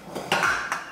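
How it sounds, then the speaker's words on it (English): A metal pressure cooker is brought over and set down on a kitchen surface, giving two close metallic clanks with a short ringing clatter between them. "Now I'm going to bring the pressure cooker."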